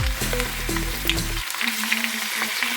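Potato mixture hitting a hot pan, a close, loud sizzle that settles into a steady crackling fry, with no talking.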